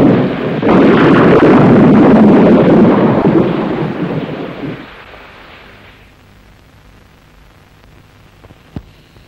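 A heavy thunderstorm roars with a long rolling thunder crash and dense rain and wind that gradually fade, leaving quieter rain with a couple of sharp knocks near the end; no voices.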